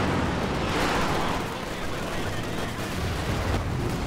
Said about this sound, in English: Long range Werfer barrage and hits a good collection of units there.